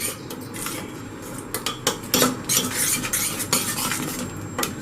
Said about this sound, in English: Now give this a mix.